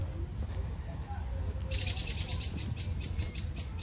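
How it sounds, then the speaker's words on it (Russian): Birds singing outdoors in Antalya, high repeated chirps that come in halfway through over a low rumble of street or tram noise, moderately faint. "Послушайте, как птицы поют."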